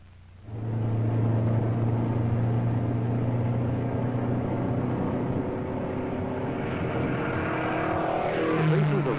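The 1962 Ford Mustang I concept research car is driven during testing. Its engine fades in and holds a loud, steady drone with a slight rise in pitch near the end.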